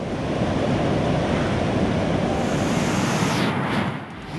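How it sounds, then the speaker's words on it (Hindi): Godavari river in flood after dam water release, a loud continuous rush of turbulent water with wind buffeting, steady and close, easing slightly at the end. "जहां चलकपुर डैम से पानी छोड़ने के बाद गोदावरी नदी ने भयंकर रूप धारण कर रखा है।"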